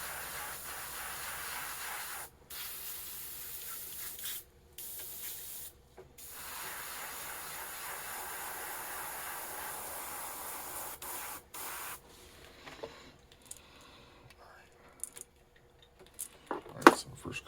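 An airbrush sprays paint onto a custom crankbait fishing lure in steady hissing bursts separated by short pauses, then gives way to quieter clinks and handling sounds.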